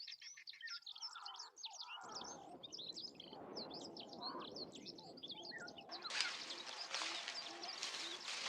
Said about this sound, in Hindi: लाल चोंच वाले ऑक्सपेकर पक्षियों की आवाज ने भैंसों के एक और झुंड के आने की